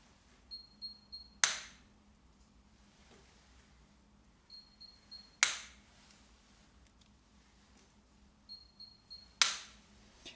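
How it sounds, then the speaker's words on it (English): A CTU S-Wave shockwave therapy device fires three sharp cracking shots about four seconds apart, each preceded by a short series of quiet high electronic beeps, in a quiet room. "Now I changed only the magnetic flow, and you can appreciate a different sound of the lens."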